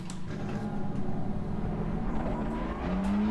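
BMW M4 GT3 race car in Assetto Corsa Competizione at Kyalami, engine droning loud and steady at high revs through a flat-out stretch, pitch climbing slightly near the end.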